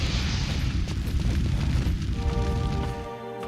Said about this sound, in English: I set myself on fire again.